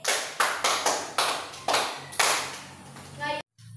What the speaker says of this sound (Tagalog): Bigyan ng 5 palakpak ang inyong sarili.